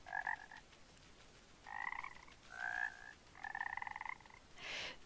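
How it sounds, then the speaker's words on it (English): A frog croaking in a video game, five short separated croaks in an uneven rhythm, fairly faint and alone with no talk. "Are there other frogs?"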